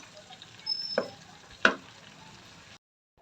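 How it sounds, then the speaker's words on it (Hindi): Tomatoes being mashed and cooked in a pan for chicken karahi, a soft steady sizzle broken by two sharp scraping knocks of a utensil, then silence at the end. "अब टमाटरों को अच्छे से मैश करेंगे।"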